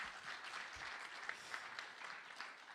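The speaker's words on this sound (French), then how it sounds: "On peut applaudir Laetitia et son enthousiasme débordant" An audience applauds at the close of a round-table talk at a conference, a steady, moderately distant patter of many hands clapping with a few sharper claps standing out.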